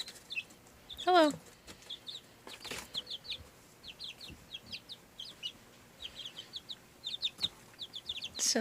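A caged pet bird clucks in repeated short, bright bursts, with a louder warbling call near the start and clusters of quick chirps following, close and fairly clear against a quiet indoor room.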